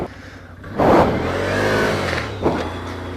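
A 2016 Can-Am Outlander L 500 V-twin ATV engine being throttled up, a close, loud revving swell that holds and then dips with a brief second blip, no voices.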